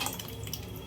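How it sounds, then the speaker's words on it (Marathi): Water poured into cooking dal for dal bati gives a brief, faint trickling splash. "पाणी टाकून"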